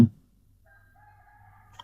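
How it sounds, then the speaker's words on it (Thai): A faint, distant rooster crows once in a drawn-out call after a brief thump, against an otherwise quiet background. "ตอนนี้ไก่ขัน เสียงนี้ให้ข้าว่าไก่ขัน"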